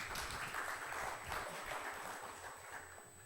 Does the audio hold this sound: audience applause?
yes